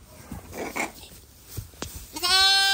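Jacob sheep and newborn lambs at lambing time: scattered rustles and small noises in a quiet pen give way to one clear, loud bleat near the end.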